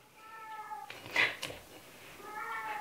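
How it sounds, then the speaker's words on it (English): A domestic cat gives one short, fairly close meow in the middle of a quiet indoor kitchen, with a faint tonal hum fading out before it and returning afterwards. "There's my other cat."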